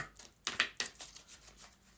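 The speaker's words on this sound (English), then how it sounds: "we're going to do one more shuffle" A deck of Moonology oracle cards is shuffled in a few quick, soft riffling bursts, close and quiet, with no talk.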